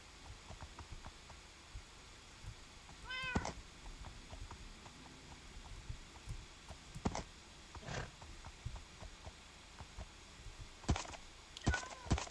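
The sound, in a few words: cat meowing in the video game Minecraft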